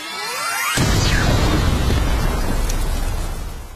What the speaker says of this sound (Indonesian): tiba-tiba sihir milik Do tadi pun meledak